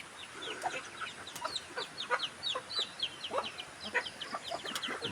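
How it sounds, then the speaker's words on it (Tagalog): Domestic farm chickens on a mountain farm cluck in short, repeated calls, several birds close by with no talk. "mga alagang manok"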